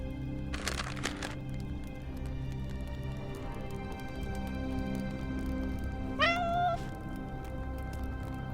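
A cat in the video game Love and Deepspace gives one clear rising meow late on, after a brief crackling burst, over a quiet steady hum.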